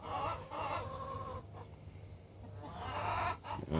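Hens in a backyard urban-homestead coop cluck and squawk close by, a steady stream of overlapping calls with a few louder bursts, heard without talk.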